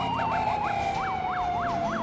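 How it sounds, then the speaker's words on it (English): A police car siren in the LCPDFR video game runs in dual mode, a rapid, rhythmic yelp pulsing steadily over a second sustained tone, close and loud, with no talking. "So we're going to dual siren up here."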